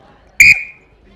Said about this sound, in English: I'm blowing a whistle.